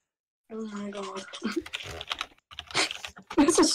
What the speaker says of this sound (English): I can hear you typing, April.